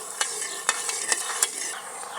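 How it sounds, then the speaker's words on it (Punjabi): Sugar syrup for rasmalai bubbles in a pot over the heat, a close, steady hissing simmer with a few sharp pops and clicks spaced through it, with no talking. "ਖੰਡ ਆਪਣੀ ਖੁਰ ਗਈ ਸਾਰੀ ਤੇ ਚਾਸਣੀ ਰਿੱਝਣ ਲੱਗ ਗਈ"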